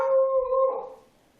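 A single drawn-out dog howl, close and fairly loud, fading away after about a second.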